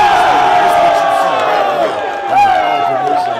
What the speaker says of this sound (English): the crowd is going crazy just because they're all right in your face